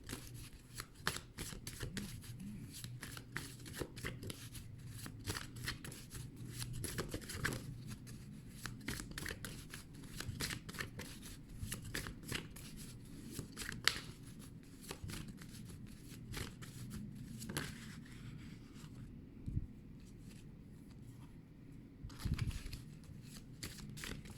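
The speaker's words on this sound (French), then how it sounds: "Alors, on va prendre quelques deux cartes pour clôturer." Tarot cards are shuffled and drawn by hand in a quiet room, a long run of soft riffling, sliding and snapping card sounds with scattered sharper flicks, close and low in level, with no talking.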